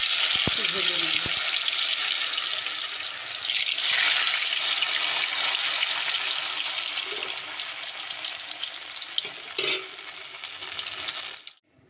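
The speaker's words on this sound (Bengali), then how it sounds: "দিয়ে ভেজে নেব" Mung puli dumplings fry in hot oil, a few at a time, giving a steady, loud bubbling sizzle that carries on throughout, with a few brief clatters near the start and middle.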